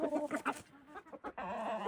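A rooster clucks and calls in repeated bursts, close and fairly loud, with brief gaps between calls.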